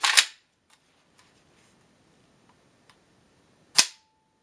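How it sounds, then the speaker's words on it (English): Two sharp, loud clicks from the original trigger of a VEPR rifle being pulled, one at the start and one near the end, separated by quiet with only faint small mechanical ticks between. "I thought I'd just show you what the original trigger pull is like"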